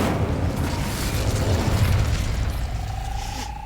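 The Incendio fire spell being cast in Hogwarts Legacy, a rumbling, whooshing burst of flame that roars steadily for a few seconds, then fades under a thin sustained tone.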